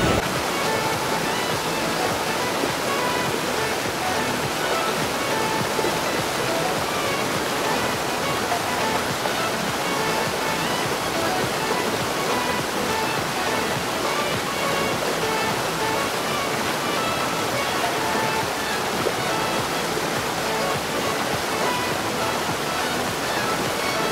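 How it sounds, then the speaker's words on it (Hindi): Loud, continuous rushing water of a mountain stream over stones, a dense roar that stays steady and close throughout with no breaks. "शोर बढ़ता जा रहा है पानी का।"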